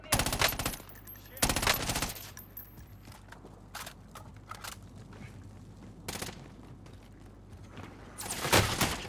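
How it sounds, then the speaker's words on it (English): Bursts of automatic gunfire crackle through a battle royale match in Rebirth, with sustained loud volleys at the start, in the middle and near the end, and sparser single shots between them. "I'm taking fire."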